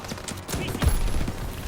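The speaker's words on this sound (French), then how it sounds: "c'est la mitrailleuse du Half-Track." Half-track machine gun fire in the Call of Duty WWII video game, heard as a short burst of rapid shots layered over a busy battle soundscape.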